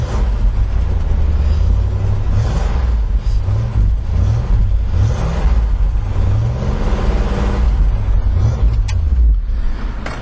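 A 1973 AMX engine rumbles loudly and continuously up close, its pitch rising and falling with repeated revs.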